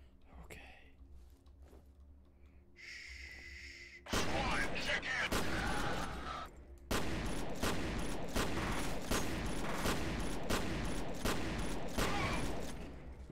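A shotgun blasts repeatedly in the first-person shooter F.E.A.R., loud crackling bursts that start abruptly after a quieter stretch, with dense gunfire and clatter continuing to the end, and a voice murmuring early on.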